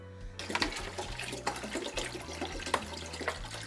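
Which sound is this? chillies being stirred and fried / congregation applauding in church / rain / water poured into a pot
water poured into a pot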